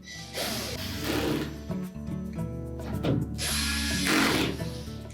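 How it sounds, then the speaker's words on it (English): A screwdriver ratchets as retaining screws are driven back into a Whirlpool washer console, making several close, loud bursts of clicking turns with short pauses between them. "So simply reinstall those retaining screws."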